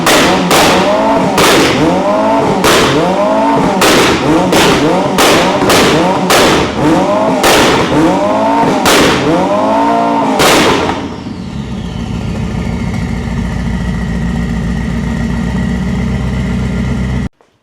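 Ferrari SF90 with a Stage 2 tune and Voodoo downpipes and rear section revved hard in a rapid series of about a dozen loud blips, each ending in sharp exhaust pops and crackles, then settling into a close, steady idle.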